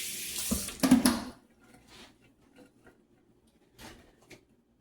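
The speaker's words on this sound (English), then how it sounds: "rinse my hands" Water from a kitchen tap runs briefly as hands are rinsed while cookies are being made. There is a short, close gush at the start, then faint drips and small handling sounds fading into quiet.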